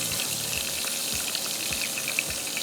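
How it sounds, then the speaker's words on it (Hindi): Fish pieces fry in hot oil until golden, giving a dense, continuous crackling sizzle that stays steady and close throughout, with no voices. "ये फ्राई हो रही है"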